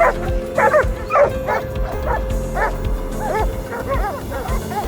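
Hunting dogs chasing a wild hog, several dogs barking and yelping repeatedly in an excited irregular rhythm, loud and close, with a high whining tone running underneath.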